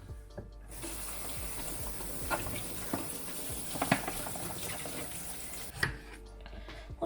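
Strawberries washed under a running kitchen tap, a steady close stream of water into a sink with small knocks and splashes as the fruit is handled, the flow cutting off briefly at the start and near the end.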